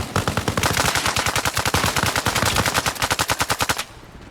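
Rapid automatic gunfire in the military shooter game Arma Reforger, a loud, sustained stream of close shots with sharp regular bursts that cut off abruptly near the end, leaving a quiet tail.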